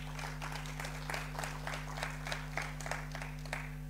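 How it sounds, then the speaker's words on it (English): Audience at a public lecture on oil and gas in a waterfront venue giving a round of applause: a moderate group clapping at a steady pace over a constant electrical hum, with no speech. "a round of applause, please"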